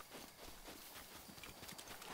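Horse hooves clip-clop in a steady walking rhythm across the Hyrule landscape of The Legend of Zelda: Breath of the Wild, a continuous, moderately loud patter with no voices over it.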